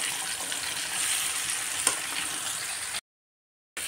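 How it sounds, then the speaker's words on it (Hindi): Carrots being mixed into lightly fried spices in a pan for carrot pickle, giving a steady close sizzle with soft stirring for about three seconds before cutting to silence. "अब मैं ऊपर से गाजर को ऐड करती हूँ और इसको मसाले में अच्छे से मिक्स कर देती हूँ"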